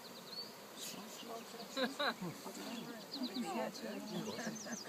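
Honeybees buzz around an open hive in a continuous, fairly close drone, while people talk intermittently over the buzzing.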